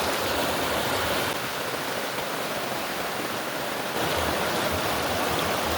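Fast-flowing stream water rushes steadily and loudly, a dense broadband roar that fills the whole stretch without pause or voices.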